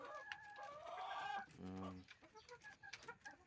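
Layer hens on a poultry farm cluck and call close by, with a short rooster-like crow in the middle and scattered bird chatter around it.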